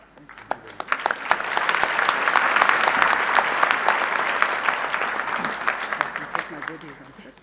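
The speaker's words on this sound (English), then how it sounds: "give a huge round of applause to Dr. Morgan" Sustained applause from an audience at a Colleges of Medicine of South Africa ceremony, a dense wash of clapping that swells and holds steady for several seconds with a few sharper individual claps standing out.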